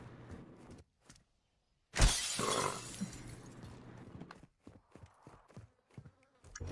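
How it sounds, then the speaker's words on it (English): Glass shatters in a first-person shooter video game: a sudden loud crash with tinkling debris, after a brief silence, followed by scattered footsteps and clatter. "you just breaking glass left and right"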